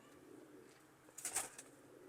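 Soft, low cooing of Taddy and Dub breed pigeons mixed with faint rustling and a brief burst of brighter chirps midway, fairly quiet and close.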